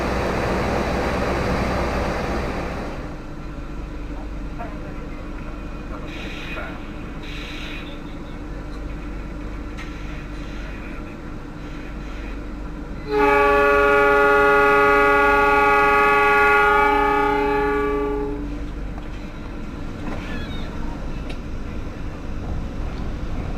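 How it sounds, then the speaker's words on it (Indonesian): Arjuna Express passenger train at Bangil station sounds a long, loud multi-tone horn blast lasting about five seconds over steady rail and station rumble. "tepat pada pukul 11 lebih 6 menit kereta api Arjuna Express diberangkatkan dari stasiun Bangil"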